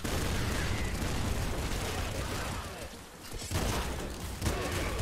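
Dense, continuous gunfire and explosive bursts from the Nuclear Throne video game fill the whole stretch loudly, with a short dip midway before the barrage resumes, while a voice talks over it.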